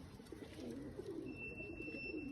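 A young silver pigeon in a loft coos softly in low repeated throaty rolls, close but quiet, with a faint high-pitched tone in the background and no voices.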